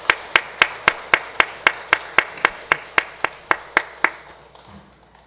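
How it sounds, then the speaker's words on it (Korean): A church congregation at a Sunday worship service claps in a steady, even rhythm of about fifteen sharp, evenly spaced claps that stop abruptly near the end. The claps are close and clear with no talk over them. "영광의 박수 올려드리십시다."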